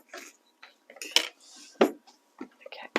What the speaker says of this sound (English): we need to find another fork again because we're whisking eggs